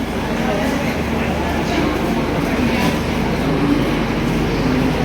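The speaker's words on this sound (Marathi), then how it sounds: "ही आहे अमृतसर एक्सप्रेस, जी आम्हाला नाशिकला सोडणार आहे." The Amritsar Express's low, steady rumble and mechanical hum fill a railway station continuously, with voices speaking faintly beneath the noise.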